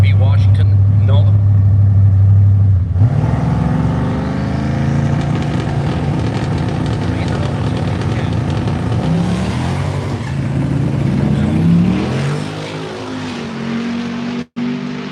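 Two drag cars, a Cadillac Coupe de Ville and a Chevy Nova, launch together at a dragstrip, engines roaring loud and sustained as they accelerate away, with an announcer talking over the noise.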